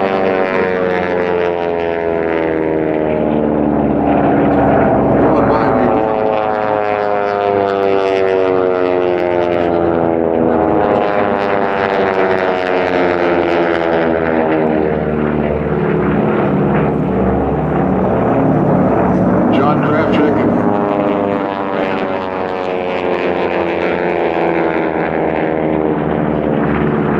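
A T-6 race airplane drones past with a loud, steady propeller-engine roar that holds throughout, its pitch shifting gradually as it sweeps by.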